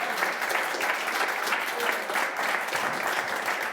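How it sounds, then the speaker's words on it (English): An audience applauds at a National Lottery Money Spinner draw, dense even clapping close and loud throughout, with a faint voice in the background. "So give them all a big round of applause"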